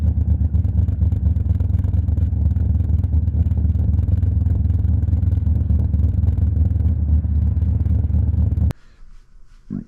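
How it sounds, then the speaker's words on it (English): A Toyota 2JZ VVTi engine with a faulty solenoid idles rough and lumpy, a loud, close, uneven pulsing drone that runs steadily, then cuts off sharply near the end. "it's idling funny, sounds really aggressive and strange."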